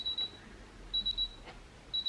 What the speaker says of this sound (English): beep beep beep beep, it's finished.